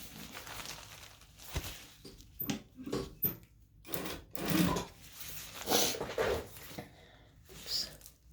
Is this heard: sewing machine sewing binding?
yes